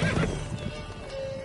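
Roach, Geralt's horse in The Witcher 3, gives a brief nearby neigh mixed with a few clopping hoofbeats in one short burst.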